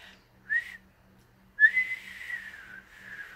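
A person whistles a short note, pauses, then a longer falling whistled phrase, close and clear over a faint steady low hum.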